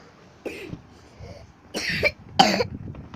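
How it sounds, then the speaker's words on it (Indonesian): Someone with a cough lets out three short, close coughs, spaced apart in an otherwise quiet indoor space. "Aku itu lagi batuk guys sebenarnya."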